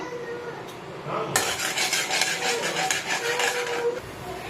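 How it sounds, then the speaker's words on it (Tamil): Mustard seeds and chana dal splutter in hot oil, starting quietly and then breaking into a sudden dense, close crackle of popping that runs for about three seconds. "கடுகு நல்லா பொரிஞ்சு வரட்டும்"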